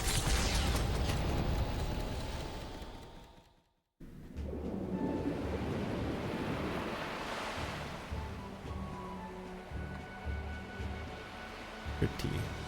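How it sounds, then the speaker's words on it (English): Ocean waves rush and churn at sea in the video game Metaphor: Refantazio, a steady broadband wash with wind and creaking boat mechanisms, briefly cutting to silence before resuming with low hums and clanks. "Rest assured, I'll get us through these waves to Varga Island,"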